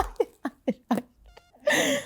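A cat gives a series of short meows in quick succession, four or five brief calls close by, followed by a louder breathy burst that sounds like laughter.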